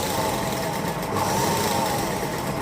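A motorized sewing machine runs at a steady speed, a loud, continuous mechanical whir with a faint high motor whine throughout.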